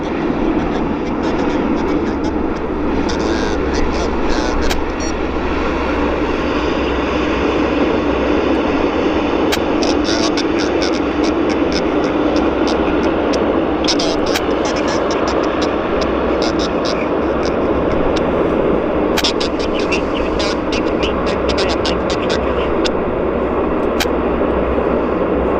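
Steady, deep roar from the engines of an Airbus A380 airliner at Vancouver Airport, a continuous broad rumble that holds level throughout, with people talking intermittently over it.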